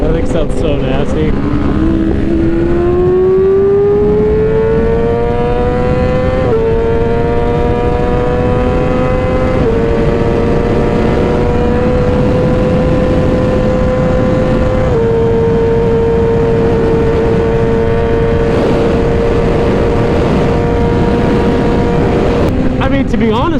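A Yamaha R6 sport motorcycle engine revs loudly while riding, pitch climbing through each gear with brief dips at the shifts, close and continuous, with a rider talking over the top.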